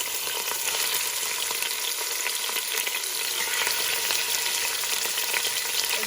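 Meat sizzles and fries steadily in a pan for an Ivorian kôpè sauce, a dense, continuous crackle with occasional stirring, close and fairly loud with no talking.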